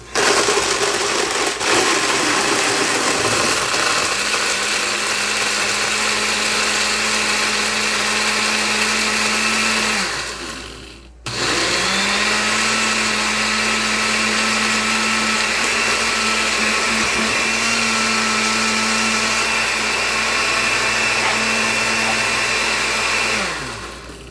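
Blender whirring loudly as it crushes ice for frozen margaritas, a steady roaring motor run that stops briefly midway and then restarts for another long grinding stretch before winding down.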